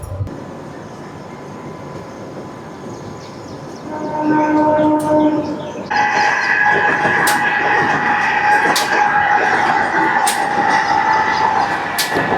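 A Mumbai local EMU train running loud and close, its steady rumble and rattling wheels continuous throughout, with a tonal whine rising as it picks up speed midway.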